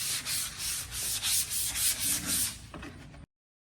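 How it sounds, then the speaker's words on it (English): Rhythmic scratchy rubbing of high-grit sandpaper folded in half and sanded by hand on furniture, several back-and-forth strokes in a steady pattern, close up, then a brief pause and it stops. "after I'm done sanding it with that high grit sandpaper"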